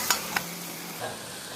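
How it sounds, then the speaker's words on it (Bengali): Dheki shak greens being stirred with salt in a pan, two sharp clicks of a utensil, then a faint low sizzle and a soft scrape, quiet and close. "পরিমাণ মতো লবণ দিয়ে ভালো করে নাড়াচাড়া করে নিতে হবে"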